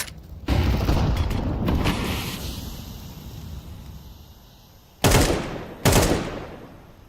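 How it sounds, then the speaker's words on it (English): Sharp, loud bursts in a tactical shooter video game, a flashbang going off among gunfire-like blasts, first a long crackling volley then two separate hard bangs that each fade quickly. "I'm throwing the flashbang."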